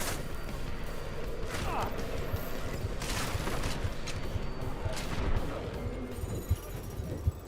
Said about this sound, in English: Who the fuck is shooting at me and why?